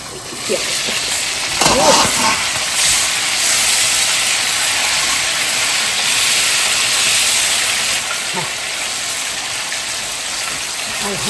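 Chicken fries gently in a covered pan, making a continuous loud hiss of steam and sizzle that holds steady throughout. A few faint knocks and brief voices sit underneath.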